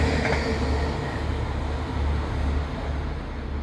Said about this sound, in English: now on the approach is a TransPennine X185 to Hull